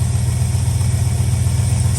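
An old truck engine from a 1976 Ford F350 idles steadily up close, a loud, even low rumble with a regular pulsing beat and no voices.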